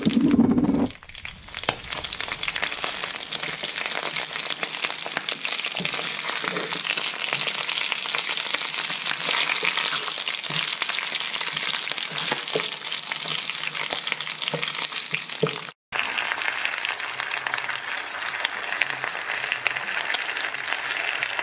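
Pig trotters sizzle and fry loudly in a wok with brown sugar, a steady hissing crackle that runs almost unbroken, cutting out for a brief instant once.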